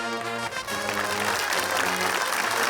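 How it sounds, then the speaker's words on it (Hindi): A studio audience on a comedy quiz show bursts into loud, sustained applause, with a faint tonal music bed underneath and a voice briefly heard near the start. "4-4 हो गए, तालियां।"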